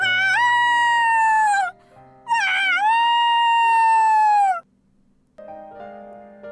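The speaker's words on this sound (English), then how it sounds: "Are these howls pleas for help?" Long, sustained mournful howls in the visual novel Sabbat of the Witch, two loud tonal wails with pitch sliding, separated by a short gap, followed by quieter tones.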